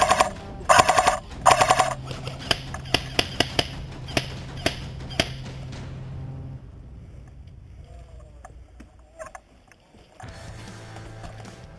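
Airsoft guns firing on an outdoor field: rapid bursts of close, sharp snapping shots, then scattered single shots, fading into quieter background with faint distant activity.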